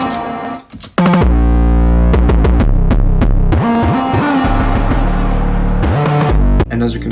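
A heavy, distorted 808 bass line with reverb and delay slides in a beat, booming and loud throughout, with throbbing sustained low notes, pitch glides and brief gaps between hits.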